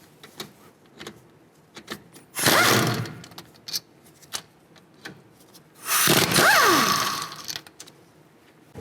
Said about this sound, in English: Use a 14mm socket, take these two bolts out that hold the caliper on.